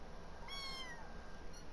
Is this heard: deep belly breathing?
no